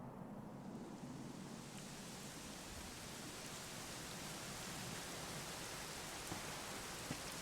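Steady rain in the video game Dragon Quest XI S, a constant broadband hiss of falling rain with no breaks, even and moderately loud throughout.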